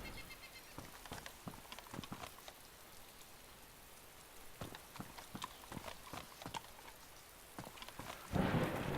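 A thunderstorm in DayZ brings sharp thunder and lightning cracks over steady rain. A louder rumble swells near the end.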